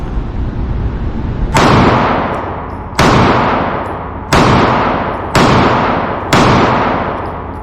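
Five sharp shots from a Sig compact pistol crack at a steady pace about a second and a half apart, each loud and close with a quick decaying ring of range echo, and no talk in between.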